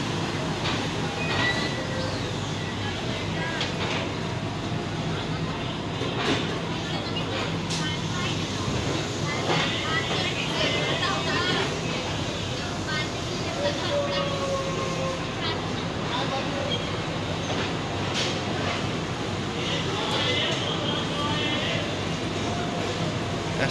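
The Tezgam express train running on rails, a loud continuous rumbling roar with faint rhythmic wheel clatter and occasional squeals, heard from inside the moving train.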